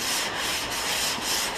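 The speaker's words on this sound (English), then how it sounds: "you're going to take your sanding block and you're going to lay it down here" Steady rhythmic scraping of a sanding block rubbed back and forth over the metal rear fender of a 1954 GMC truck, close and continuous, with no voices.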